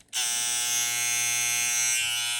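TPOB XO hair clippers switch on and run with a loud, steady high-pitched buzz close by, alone with no talking.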